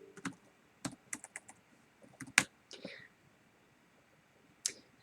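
Keys tapped on a computer keyboard while entering a search, a few scattered quiet clicks and short bursts with pauses between them, close by in a quiet room.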